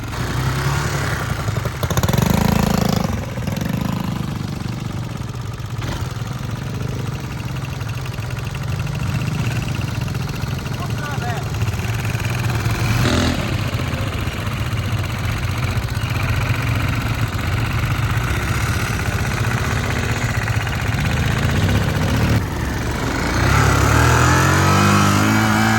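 A Kawasaki Bayou 220 ATV engine runs steadily and loud throughout, a continuous mid-pitched drone with slight swells as the throttle shifts, plus a firmer rev near the end.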